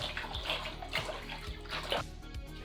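Soda solution is stirred in a basin of water for washing tulle curtains: soft, continuous swishing and sloshing, quiet and close, with no voices.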